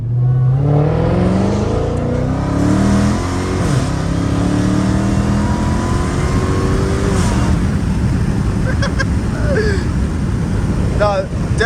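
A Dodge Hellcat Redeye launches hard from a dead stop, its engine roaring loud and close as the pitch climbs steadily through the gears, with voices inside the car over the noise.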